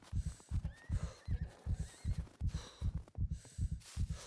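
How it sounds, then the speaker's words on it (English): Horse in the video game SCUM, heard as steady rhythmic hoofbeats, about a dozen evenly spaced thuds, fairly faint, with soft high tonal sounds above them. "That's an actual horse."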